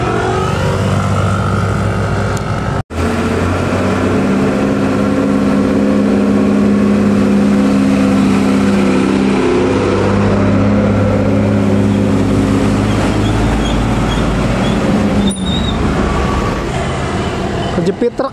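A new yellow dump truck passes on a road, its heavy diesel engine droning loudly and steadily at close range with a few sharp clunks along the way, while people talk nearby.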